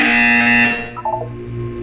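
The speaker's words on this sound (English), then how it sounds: "You will hear a buzzer." A loud, harsh electronic buzzer in Portal 2 blares for most of a second, then cuts off, followed by a few short tones and a low hum.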